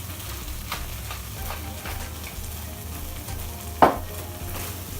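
Cauliflower seasoned with salt and pepper is stirred and tossed in a pan, making a soft ongoing rustle and faint sizzle, with one sharp knock near the end.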